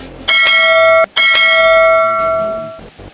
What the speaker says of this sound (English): Turn the notification bell after subscribing.